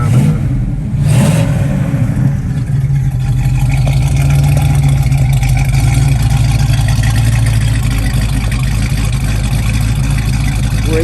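A 1967 Pontiac Firebird's engine catches after a short crank and settles into a loud, steady rumbling idle, close to the microphone, with some revving throughout.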